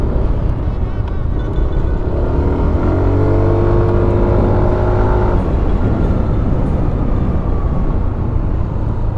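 A Yamaha Aerox 155 scooter on a solo road ride gives a steady, loud engine drone with a rising tone partway through, over constant wind rush and no talking.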